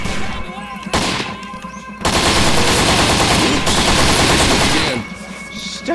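Rapid automatic gunfire in the video game Postal III, loud and close, in long sustained bursts broken by short pauses, with a voice faintly underneath.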